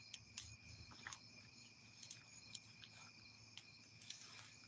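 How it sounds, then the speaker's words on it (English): Crickets and cicadas trill steadily on a summer night, a continuous high insect buzz with sharper chirps recurring every second or so, moderately close and alone without voices. "I like the sounds of crickets and cicadas in the summer night."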